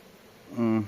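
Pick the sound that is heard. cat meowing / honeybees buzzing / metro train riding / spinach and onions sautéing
honeybees buzzing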